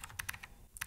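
A short burst of keystrokes on a computer keyboard while a curl command is entered, several quick, close clicks with a brief pause before a final pair.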